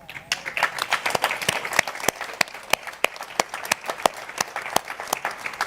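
Audience at a scholarship fund award ceremony applauding, a steady spread of many hands clapping with sharp individual claps standing out, fairly distant in a large room.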